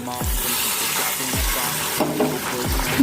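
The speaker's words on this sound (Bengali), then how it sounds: "এবার আমি জলটা দিয়ে দিচ্ছি" Water poured into a hot pan of egg curry, giving a steady broadband sizzle with a few short bubbling, clattering bursts as it is stirred, close and alone without talk.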